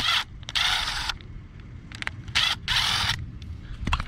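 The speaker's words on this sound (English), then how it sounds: "Pry that bowl off." A plastic carburetor bowl on a Briggs & Stratton lawn mower is pried off in several bursts of harsh scraping and rasping, close and fairly loud, separated by short quiet gaps and small clicks.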